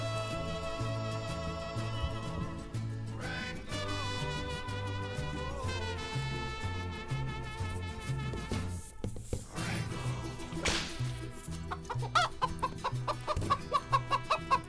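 A chicken clucks in repeated short bursts that grow quicker toward the end, set against a steady musical backing.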